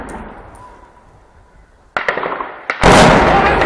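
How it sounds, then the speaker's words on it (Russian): A sharp, loud gunshot crack rings out in the open air at Donetsk International Airport, followed by a second blast and a sustained roar or echo after it. "Выстрел!"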